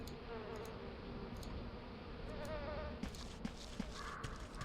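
Bees buzzing around a cluster of apiaries in the desert crafting game A Tale in the Desert, a continuous droning hum with faint clip-clop taps near the end.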